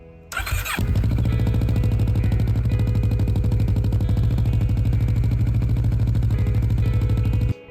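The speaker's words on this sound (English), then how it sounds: "the best thing to do is start the bike up" A Kawasaki ER-6f (Ninja 650R) motorcycle engine cranks briefly, fires, and settles into a loud, steady, close idle with a rhythmic throb for several seconds before cutting off. No one speaks.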